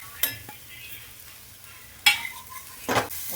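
Garlic-chili paste and spices hit a hot pan for potato samosa filling, with a few brief scraping stirs and a faint fry underneath, punctuated by three short clattering bursts of spoon against pan.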